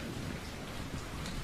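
Heavy rain pours in a dense, loud, unbroken roar, with no distinct thunderclap standing out in the brief stretch.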